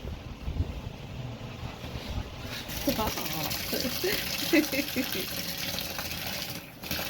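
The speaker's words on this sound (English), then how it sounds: "This one's getting a bath. She likes the water." Running water from a tap splashing in a sink as a puppy is bathed, a steady wash of flowing water with people talking over it.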